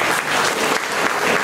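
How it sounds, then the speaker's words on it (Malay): Dense applause from an audience at a school opening ceremony in Penang, Malaysia: a steady, loud wash of many hands clapping together without a break. "Tepuk tangan."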